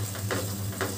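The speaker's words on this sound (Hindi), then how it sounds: "अच्छे से इसको पूरे अच्छे से मैं भून लूंगी धीरे धीरे" Chana masala fries in oil in a pan, a steady close sizzle with a couple of soft stirring scrapes, no voices.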